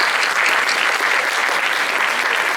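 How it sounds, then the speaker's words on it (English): An audience at a Model United Nations conference, CHEMUN 2015, applauds with loud, sustained clapping from a large crowd that stays full and even from start to finish. "Please give a round of applause"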